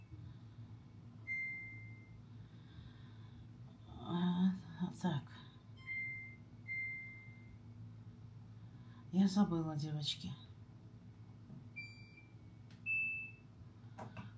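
A washing machine gives several short, high electronic beeps, spaced irregularly, while someone talks nearby.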